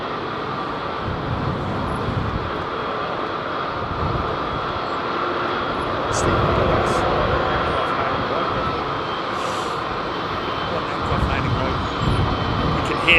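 A Boeing 757 with Rolls-Royce RB211 jet engines departs London Heathrow, a loud sustained engine roar and rumble that swells midway, with people talking over it.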